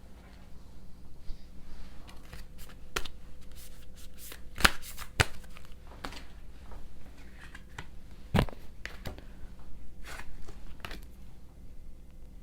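Tarot cards are shuffled by hand up close, giving soft rustling riffles and a few sharp snaps and taps against a quiet room background.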